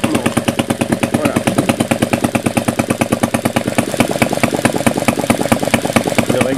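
A small scale model four-stroke engine with rocker arms working the intake and exhaust valves and a Zenith carburettor runs steadily close up, a fast even beat of firing pulses throughout.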